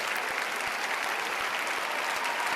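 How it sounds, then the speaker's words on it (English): An audience applauds continuously, dense clapping from a large crowd at steady loudness throughout. "They did clap for like 15 minutes."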